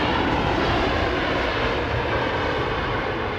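An airliner, an Airbus A330-300, landing at London Heathrow Airport, a loud broadband engine roar that holds steady and slightly eases off, with no voices.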